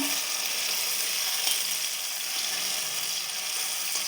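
Vegetables with tomatoes for a potato, fenugreek and spinach sabzi roasting in a pan, a steady close sizzle and crackle with faint scraping, continuous and without talk.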